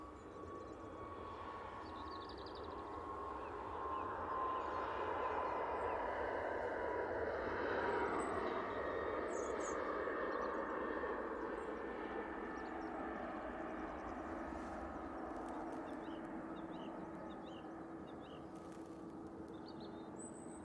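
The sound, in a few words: Boeing 737 MAX 8 on takeoff roll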